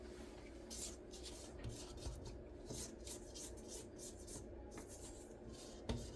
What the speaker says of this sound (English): Going to scrape the sides down.